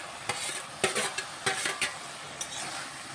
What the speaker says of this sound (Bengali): এখন আমি একটু ভাজা ভাজা করে নিচ্ছি